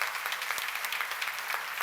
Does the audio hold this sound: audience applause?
yes